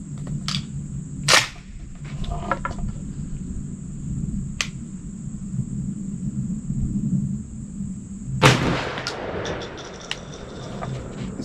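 Two blasts from a 20 gauge shotgun loaded with lead number 5 shot and fitted with a long range choke, each a loud close boom over a steady outdoor hum, the second about seven seconds after the first.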